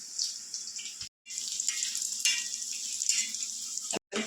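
Green chillies frying in a hot pan, a bright continuous sizzle broken by two short silent gaps, fairly close and moderately loud with no talking.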